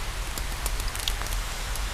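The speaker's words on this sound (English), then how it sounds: "It's raining, as you can hear that pitter patter." Rain patters steadily outdoors near a campfire: a dense, even hiss with scattered sharper drop taps, fairly close and with no voices.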